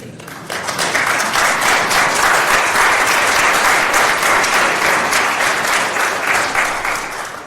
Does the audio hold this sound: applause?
yes